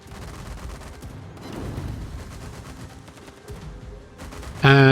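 Warship guns fire in a naval video game, a dense rumbling barrage of booms and rattling shots that ends in a loud tonal alarm-like blare.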